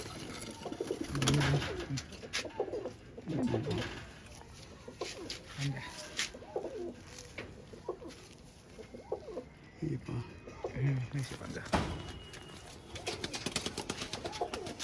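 Pigeons coo repeatedly in soft, throaty bursts at a home loft, with other birds and faint background voices around them.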